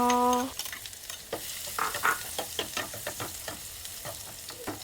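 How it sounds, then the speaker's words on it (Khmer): Garlic frying and stirring in a pan while preparing chicken porridge, a close, steady sizzle broken by repeated scraping strokes of a utensil, with a brief tonal beep at the very start. "ចាប់ផ្ដើមលីងខ្ទឹមស"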